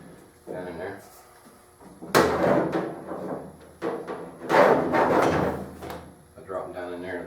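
Metal welding torch and leads dropped into a welder and plasma cutter tool box, giving a few loud clattering thuds and rattles in bursts, with someone talking around them.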